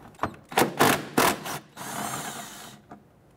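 Two 10mm bolts loosened and removed from a car's wheel well with a ratchet, giving a run of close, loud mechanical clicks and buzzing bursts, then a steady whir lasting about a second, with no talking.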